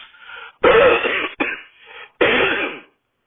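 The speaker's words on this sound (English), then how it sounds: "who takes a hit and coughs" Someone coughs hard after a hit from a pipe, in several harsh, rasping bursts, broken by short gasping pauses, loud and close.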